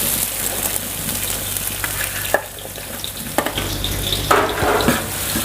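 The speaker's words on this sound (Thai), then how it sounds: "ผัดเครื่องเทศกับน้ำมันมาได้ 5 นาทีนะครับ เราก็จะใส่หอมแขก" Spices and onion frying in oil for a large batch of chicken curry for 40 people, a loud, continuous close sizzle with occasional sharp knocks and scrapes as the pot is stirred.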